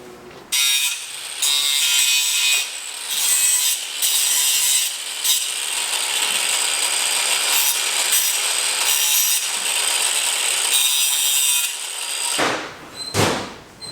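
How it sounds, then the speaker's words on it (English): Metal edges of an SR20 rocker arm stopper are filed and deburred on a shop floor, a close, loud rasping scrape in repeated strokes with brief gaps, ending in a few sharp knocks. "Make sure you get all the metal off, burr all the edges."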